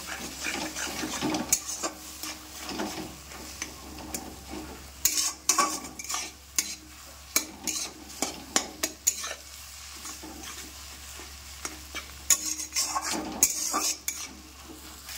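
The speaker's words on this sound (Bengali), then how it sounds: "ডিমের যেমন ভুজিয়া করি সেরকমভাবে ভুজিয়া করে নেব" Duck egg scrambled and fried in a hot wok, a spatula scraping and clattering in quick irregular strokes over a steady close sizzle, with no talking.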